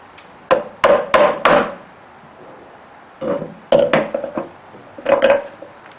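Sharp hammer blows drive wooden wedges into the tops of Windsor chair spindles, a quick burst of four strikes, a pause, then two more clusters of solid, close knocks in a quiet workshop.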